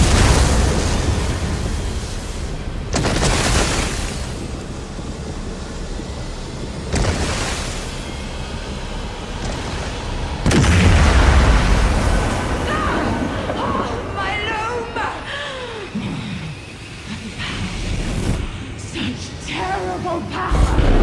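The Abolisher destroys the loom in Elder Scrolls Online: Gold Road, a game scene heard as a few heavy booming bursts with rumbling tails, the loudest near the middle, set among continuous game ambience.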